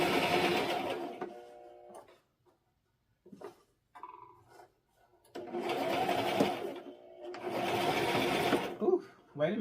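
A sewing machine runs in loud bursts, stopping and starting, with short quiet gaps and brief clicks between the stitching runs.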